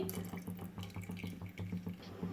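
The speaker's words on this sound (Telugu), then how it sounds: "ఆ బెల్లపు వాటర్ని అయితే వేసేసుకోవాలి" Strained jaggery water is poured into a pot for coconut-milk payasam, a quiet, steady trickling and splashing stream close by, with no talk over it.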